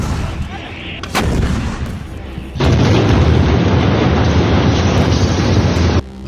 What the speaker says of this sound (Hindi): तोप के गोले बरस रहे हैं